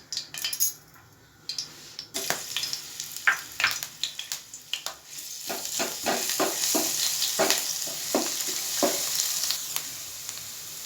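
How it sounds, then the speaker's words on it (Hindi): Ginger-garlic paste sizzles and fries in a quarter cup of hot oil, with crackling bursts and occasional scrapes and clinks of a spoon against the pan, fairly close and steady throughout. "दस सेकंड इसको हल्का सा हमने फ्राई करना है।"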